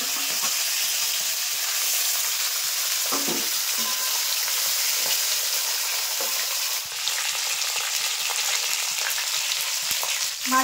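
Steady loud sizzle of fish pieces frying in mustard oil in a wok, with occasional spatula scrapes and clinks against the pan throughout, no voices.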